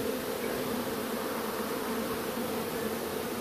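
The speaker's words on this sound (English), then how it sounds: "This is a bee made package, New Zealand bees." Honeybees from a New Zealand Bee Maid package hive buzz in a dense, steady drone, close and continuous with no talk.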